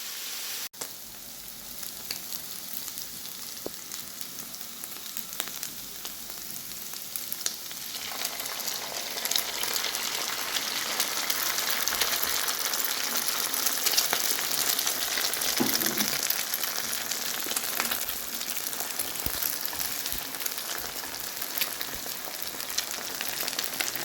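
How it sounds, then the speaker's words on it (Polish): Salsify (goat's beard) frying in a pan with bacon, a steady close sizzle and crackle that rises slightly and holds throughout, with no voices. "I dodaliśmy tutaj kozią brodę posmażymy troszkę i wrzucimy jajeczka"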